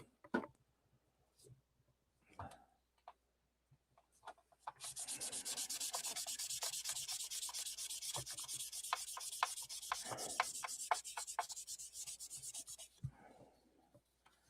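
Hand sanding with finer grit sandpaper on a bench workpiece: a steady, close, dry rubbing scrape runs for about eight seconds without pause, after a few faint taps and handling sounds.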